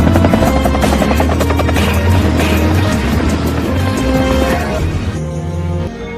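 Helicopter in an action film scene, a loud, dense rotor whir blended with film soundtrack that holds steady and then thins out near the end.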